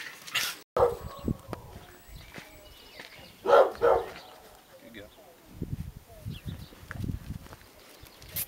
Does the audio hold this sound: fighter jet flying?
no